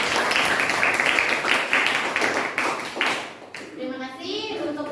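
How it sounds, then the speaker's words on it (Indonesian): A group of students claps their hands in a classroom, a burst of dense, close clapping that fades out near the end as voices take over. "Tuh, tepuk tangan dong untuk kelompok."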